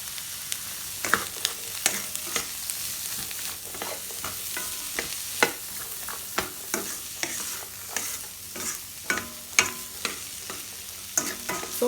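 Chinese fried rice stir-fried with seasoning, a steady sizzle in the pan broken by frequent sharp scrapes and clacks of the utensil against the wok, close and lively with no talking.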